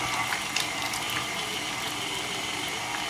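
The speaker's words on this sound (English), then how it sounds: "I put the whisk attachment, and we will need to start on low because there is a lots of juices" Stand mixer with a whisk attachment running on low speed through juicy pineapple cake filling, a steady whirring and churning mechanical drone that holds the same level throughout with no talking.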